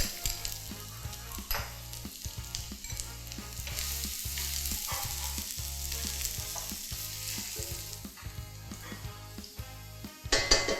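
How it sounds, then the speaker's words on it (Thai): Garlic sizzles steadily in hot oil while a spatula scrapes and clatters against the wok in a quick, uneven rhythm. "รอให้ร้อนแล้วก็ใส่น้ำมันลงไปค่ะ ตามด้วยกระเทียมนะคะ ผัดให้หอมเลย"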